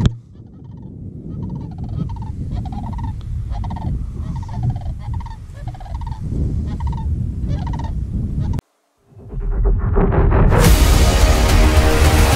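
Cranes call over a farm field of freshly planted cover crop, a run of repeated bugling, rattling cries in steady bursts at moderate distance, followed by a brief gap and then a loud rush of wind noise.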